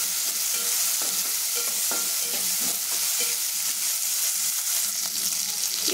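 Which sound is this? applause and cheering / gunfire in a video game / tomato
tomato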